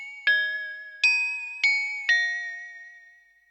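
Roland MT-32 Bell Singer synth patch played through a MIDIPan, four clear bell-like tones struck in steady succession, each ringing and slowly decaying, clean and alone.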